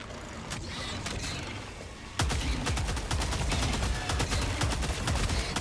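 A Tenderizer rifle fires during a Helldivers 2 fight against bugs. Muffled, scattered shots come first, then a loud, steady stream of close automatic fire continues to the end with no voices.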